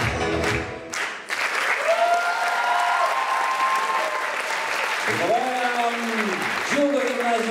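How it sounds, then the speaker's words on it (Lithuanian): An audience applauds a school team's performance at a student competition in Telšiai, with steady clapping that runs throughout and a voice speaking over it. "visą aplodismentą jums"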